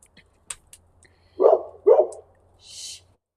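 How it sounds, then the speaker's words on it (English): A guard dog gives two close, loud barks in quick succession, followed by a softer, higher yelp, with faint clicks and a quiet hum in between. "It's crazy because the one dog barks at anything"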